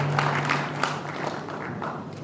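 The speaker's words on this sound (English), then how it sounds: "Please, a big round of applause, a big round of applause for her." An audience at a congress opening procession applauds a presenter, a dense, fairly distant patter of many hands clapping steadily.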